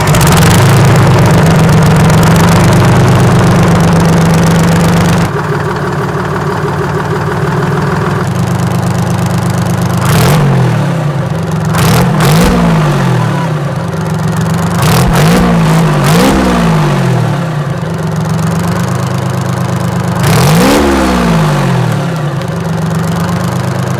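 Detroit Diesel V12 in a 1948 COE rat-rod dump truck, very loud and close, a rough rumbling idle followed by a series of sharp throttle blips that rise and fall in pitch.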